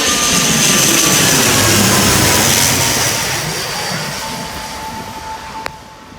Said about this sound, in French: Un avion? Oui, un avion. Il atterrit.